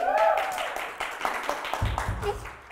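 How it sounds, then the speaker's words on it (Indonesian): Applause on a casual talk show, scattered hand claps from a small group with a voice overlapping at the start and a low thump near the end. "Boleh loh tepuk tangan nih orang yang nggak penting."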